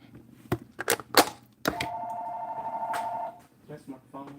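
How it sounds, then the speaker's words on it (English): A phone rings in a home kitchen with a steady electronic tone lasting about a second and a half, preceded by sharp clatters and knocks and followed by a few softer taps. "That's my phone."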